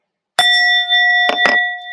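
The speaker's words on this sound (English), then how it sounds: "I forgot to ring the bell, I think." A small bell struck once, ringing out in a clear sustained tone with bright overtones, followed by two quick softer taps near the end while the first ring is still sounding, no voices.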